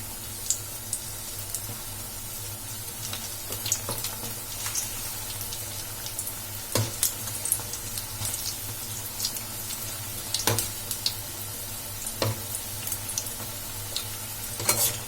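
Tea-shop style bondas deep-frying in hot oil and being turned over, a steady close sizzle dotted with small pops and light clicks throughout, with no talking.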